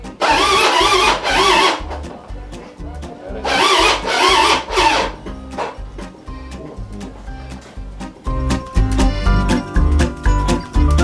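A Vespa scooter's starter motor tries to turn over an engine that won't crank, making loud rough whirring bursts separated by pauses, with clanking tool and metal handling noises close by.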